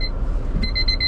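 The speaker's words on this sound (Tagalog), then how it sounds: "Nag-alarm yung aking ano. Ngayon lang tumunog." A phone alarm rings inside a truck cab, a repeating electronic beep pattern starting partway through and pulsing steadily over a low engine rumble.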